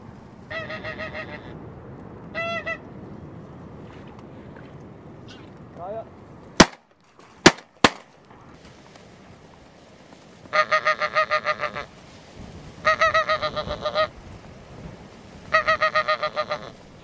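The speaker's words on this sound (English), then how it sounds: "the geese are starting to show more interest in the deeks" Geese honk in scattered bursts over decoys during a goose hunt in Orkney, a few calls early and then repeated honking clusters later, broken up by several sharp, loud gunshots.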